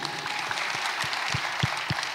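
Steady applause from a crowd at a book discussion event, dense clapping that fills the whole moment with a few heavier claps standing out.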